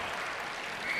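A curling crowd at the 2014 World Men's Championship, China versus Denmark, applauds a triple takeout, a steady wash of clapping that swells slightly at the end, with no talk over it.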